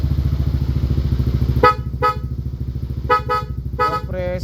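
A steady Yamaha Aerox V1 scooter engine rumble runs throughout while its dual horn sounds in several short bursts, the last few honks coming rapidly one after another.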